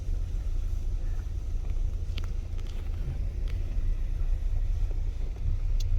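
Car driving slowly around a fishing lake at Pavyotts Mill, a steady low engine and road rumble heard from inside with faint wind noise and occasional light knocks, no talking.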